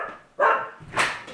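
Pet dogs barking indoors at home, a few loud close barks in two bursts with a short pause between, no talking over them.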